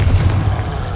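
A Confringo blasting spell fired in the video game Hogwarts Legacy: a heavy, punchy blast with deep low-end thump and gritty texture that decays over about a second.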